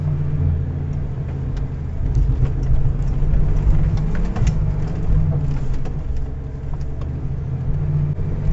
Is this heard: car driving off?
yes